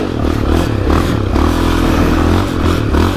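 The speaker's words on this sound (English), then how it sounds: "now I'm gonna get the RPMs up and running over here" A motorcycle engine held at high RPM while the rider slides the bike around, a loud steady rumbling drone that lasts the whole stretch and carries some clatter and scraping.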